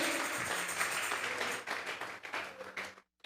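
A church congregation claps together in a steady burst of applause that fades into scattered claps and then cuts off.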